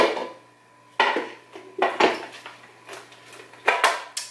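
Plastic parts of a Breville juicer clack and knock as they are pulled off and set down during disassembly, a handful of sharp, close hits with short pauses between them.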